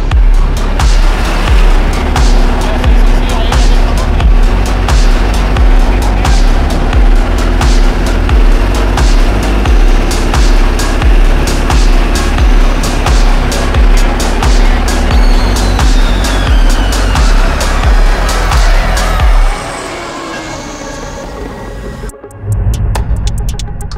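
Modified K-series Honda import drag car at a racing event, a loud sustained engine roar with rapid rhythmic pulsing throughout, dropping away near the end before a brief burst of louder noise.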